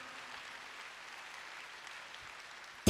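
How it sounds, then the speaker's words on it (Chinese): Faint, distant audience applause at a regional leadership training event in Malaysia, a soft even patter of clapping that holds for a few seconds before a sudden loud sound cuts in at the end. "所以我们再次给我们 Mr. Lo 一个热烈的掌声"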